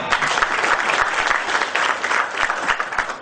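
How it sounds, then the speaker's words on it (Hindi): A crowd at a media company meeting applauds loudly and continuously, with irregular claps blending into a dense, even wash for the whole stretch. "तो तालियां।"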